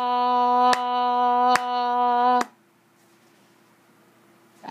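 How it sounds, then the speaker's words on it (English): Hummed whole note held steadily for four beats, a single sustained pitch with small breaks between beats, ending abruptly into near silence. "So if I were to hum the whole note,"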